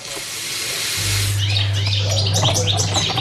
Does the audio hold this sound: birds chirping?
yes